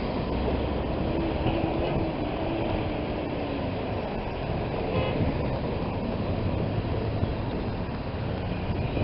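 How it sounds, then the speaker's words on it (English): A train rolls past a street crossing with a steady, loud rumble and faint clatter of wheels on rails, continuous throughout with no talking. "now until this train moves up"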